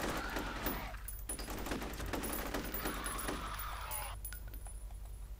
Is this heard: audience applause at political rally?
no